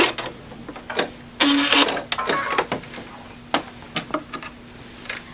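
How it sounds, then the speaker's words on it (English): A sewing machine sews off the edge of a quilt in short, uneven bursts of rapid stitching, separated by sharp clicks and brief pauses, close and fairly loud. "And then I just sew straight off the edge."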